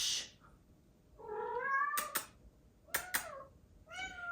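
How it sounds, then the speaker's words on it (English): A house cat meows several times in a row, clear and fairly close, with short harmonic cries and brief sharp noises between them, pleading to be let outside. "And she sits and meows until she gets to go out."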